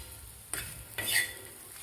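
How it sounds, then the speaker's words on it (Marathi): Spatula stirring spiced cluster bean fry in a hot pan after the gas is switched off: two soft scrapes over a quiet sizzle. "आता आपण गॅस बंद करूया आणि याला 1 मिनिटभर असंच हलवून घेऊया."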